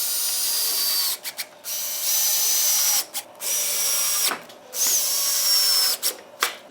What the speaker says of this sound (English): I'll just screw these to my board